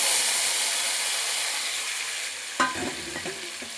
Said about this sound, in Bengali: এবার সবজিটাকে ভালো করে একটুখানি নেড়ে নেব।